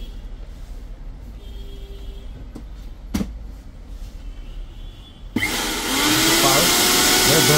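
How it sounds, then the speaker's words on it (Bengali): A mixer grinder's motor, covered by a 2-year motor guarantee, is switched on and whirs up into a loud, steady broadband roar after a quieter stretch with a brief click, then keeps running at full speed. "আর মোটরটা আমি একটু চালু করে দেখাচ্ছি।"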